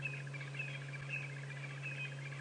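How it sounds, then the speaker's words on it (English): Red-faced mousebirds give faint, distant repeated chirping calls on an early morning safari drive, sitting over a steady low engine drone. "a couple of red-faced mouse birds going"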